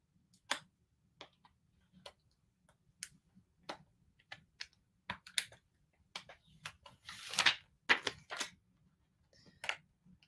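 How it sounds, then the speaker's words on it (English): Black heat transfer vinyl is peeled away from a gold vinyl layer, giving scattered soft ticks and clicks with a longer crackly tearing rasp partway through, close and quiet, with no talking. "I'm going to peel that black away, leaving the gold"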